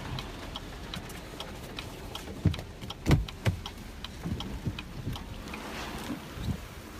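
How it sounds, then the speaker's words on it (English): Strong gusting wind in the eye of Hurricane Harvey buffets the microphone beside a roadside, with rumbling irregular bursts and low roaring noise, no talking. "but it's definitely quite windy."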